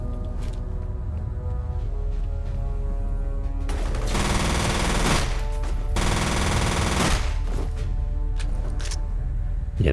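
Assault rifle gunfire in the shooter game F.E.A.R., with several long, loud automatic bursts of rapid rattling shots separated by short pauses over a constant low game hum.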